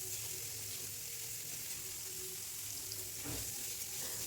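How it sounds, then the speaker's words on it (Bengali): Paneer frying in a pan, a faint but steady sizzle holding throughout with a soft clink or stir near the end, heard alone without speech. "এদিকে পনিরটা একটু ভালো করে ভেজে নিচ্ছি।"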